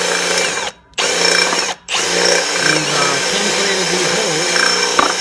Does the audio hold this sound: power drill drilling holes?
yes